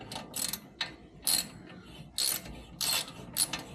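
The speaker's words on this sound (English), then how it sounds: "and then you start putting in the caliper bolt" A ratchet clicks in short bursts, pausing between each, while caliper bolts on a Porsche 992 Carrera S front brake are tightened; close and fairly quiet.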